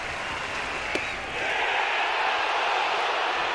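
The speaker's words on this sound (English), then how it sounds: "the crowd's upset about it" Baseball stadium crowd at an Arkansas vs LSU college game voicing displeasure at a called strike, a broad sustained roar of many voices that swells slightly after the first second.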